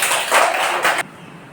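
Children in a classroom alphabet game clap their hands together in a brisk, bright burst lasting about a second, then stop abruptly into near silence.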